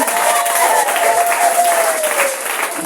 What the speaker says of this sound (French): Acclamez pour la vie du papa.